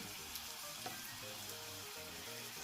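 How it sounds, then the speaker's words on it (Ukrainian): Meat cutlets frying in hot oil over high heat, a dense continuous sizzle with occasional soft pops, close and steady, no voices. "смажимо їх спочатку з двох сторін на великому вогні"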